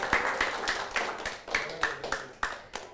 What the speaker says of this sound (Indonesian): Mari beri tepuk tangan untuk kita semua.